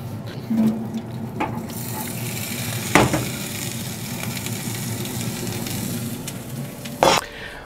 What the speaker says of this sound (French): je vais mettre de l'huile d'olive sur ma plancha et puis je vais commencer à rôtir